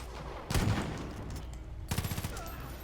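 Gunfire in a Far Cry 5 shootout, two short bursts of rapid automatic shots separated by a lull, moderately distant and fairly quiet.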